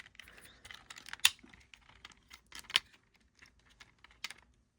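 Plastic Transformers Haslab Omega Prime toy parts being unpegged and folded, heard as a quiet series of sharp plastic clicks and taps with scattered handling rustle, no talking.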